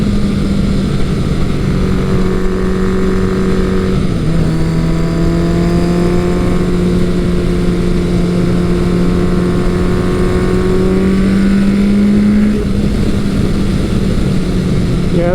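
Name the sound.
Kawasaki Eliminator 900 motorcycle engine accelerating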